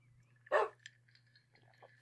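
A Minecraft wolf gives a single short bark, followed by a few faint quieter yips and a steady low hum in an otherwise quiet game scene, no voices.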